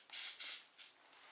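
Oil spray hisses out of a can in short bursts over biscotti dough, two strong sprays quickly followed by a lighter third, loud and close with no talking.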